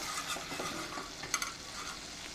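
Maida flour is stirred into melted butter in a pan, giving a steady soft sizzle with scraping stirs and a couple of brief louder clinks against the pan, with no talking.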